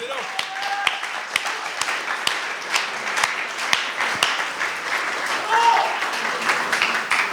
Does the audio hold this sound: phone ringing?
no